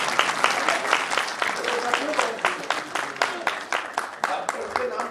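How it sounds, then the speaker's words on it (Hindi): Audience applause at a public event on TB patient care, a steady wash of many hands clapping with some louder individual claps, moderately near, with speech faintly mixed in. "ये इसमें भी ताली बजती है।"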